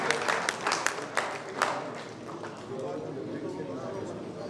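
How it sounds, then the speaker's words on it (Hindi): Audience applause at an education pre-summit event in Rajasthan, a burst of sharp claps at the start that thins into a steady, dense patter with crowd noise underneath. "जोरदार तालियां के लिए हो जाए।"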